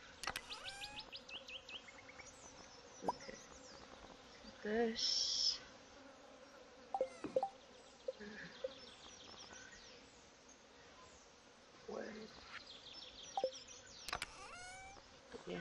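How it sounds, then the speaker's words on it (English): Bees buzz in the Stardew Valley video game, a faint, intermittent insect drone mixed with other soft game sounds and occasional brief chirps. "This sounds like bees."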